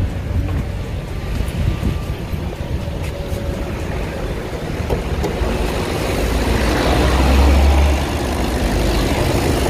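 2018 Volkswagen Golf 7 engine idling, a low steady rumble that is close and continuous, swelling slightly louder toward the end.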